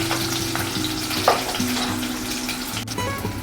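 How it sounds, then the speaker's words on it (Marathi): Onions frying in a pan for misal, a steady close crackling sizzle running throughout with a few brief stirring knocks and a low hum beneath. "कांदा टाकणार आहोत आणि तो चांगला सोनेरी रंग येईपर्यंत तळून घेणार आहोत"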